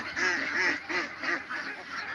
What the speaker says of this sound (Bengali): আমার হাঁসগুলোকে ডাক দিলি হাঁসগুলো আমার সামনে চলে আসে